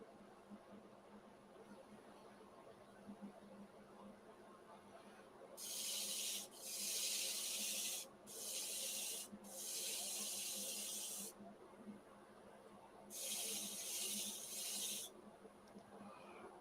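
Abrasive sanding against spinning wood on a lathe running around 750 RPM comes in several long hissing bursts over a low motor hum, separated by short pauses.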